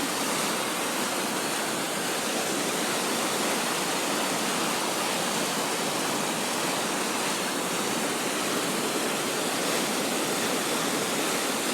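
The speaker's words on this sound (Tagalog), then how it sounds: "Lakas ng tubig oh." Strong floodwater rushes beneath a house, a loud, steady broadband roar of churning water that runs unbroken and close throughout, with no voices.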